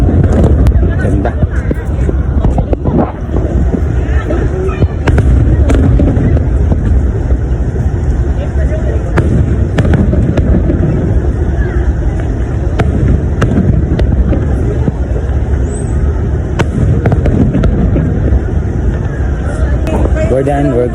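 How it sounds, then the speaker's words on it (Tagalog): Fireworks crack and thump continuously during the grand finale of a pyromusical competition, with dense booming and crowd noise, people talking throughout. "Grabe ang ganda ng fireworks display nila."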